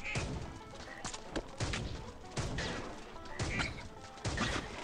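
Repeated heavy crashing booms from explosions in the game Swamp Attack 2 burst out every second or so over a constant rumble.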